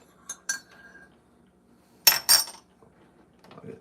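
A metal spoon clinks against a coffee cup while stirring in cream, a few sharp close taps and rattles spaced by quiet gaps.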